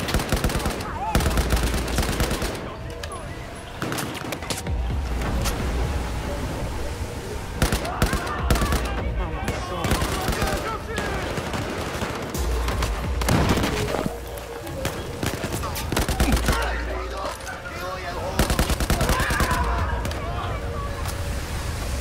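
Rapid bursts of gunfire from the Battlefield 4 video game, in the Singapore mission, crack and rattle almost continuously with heavy, booming shots and brief lulls throughout.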